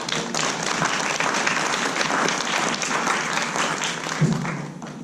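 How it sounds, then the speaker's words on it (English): Audience at an arts organisation's 40th anniversary celebration breaks into sustained applause, an even wash of clapping that carries on for about five seconds with no speech over it. "Can we give them all a round of applause?"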